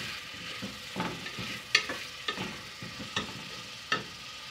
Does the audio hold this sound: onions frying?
yes